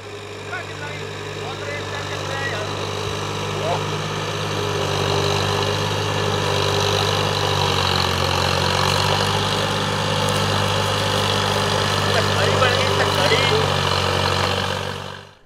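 A tractor engine runs steadily while pulling a PTO-driven sugarcane trolley through a wet field, a loud continuous mid-low drone throughout with talking over it.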